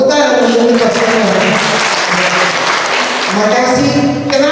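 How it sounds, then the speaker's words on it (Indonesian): Audience applause at a Christmas and New Year celebration, loud continuous clapping from a crowd with voices mixed in, steady throughout. "Tepuk tangan untuk kita semua."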